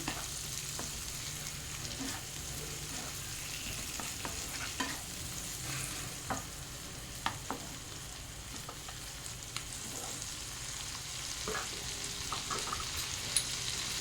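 Ginger and tomatoes fry steadily in a pan with a constant soft sizzle, and a spoon scrapes and stirs them now and then, all fairly quiet with no voices.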